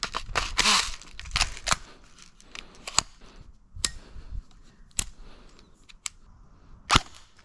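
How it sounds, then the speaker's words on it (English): Airsoft gun firing shots at roughly 330 FPS, a series of sharp close snaps spaced irregularly, a rapid cluster early and then single cracks every second or so, alone without talk. "So without further ado, let's go ahead and see how this guy shoots."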